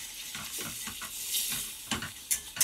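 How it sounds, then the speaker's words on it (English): Stock is whisked in stages into a hot espagnole sauce in a pan, with bursts of wet stirring and scraping over a steady sizzle, and a few sharper clinks near the end. "I'm just going to incorporate that stock in stages, making sure I whisk it in and be very careful."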